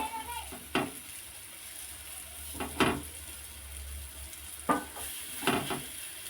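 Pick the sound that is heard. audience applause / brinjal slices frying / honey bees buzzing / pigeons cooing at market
brinjal slices frying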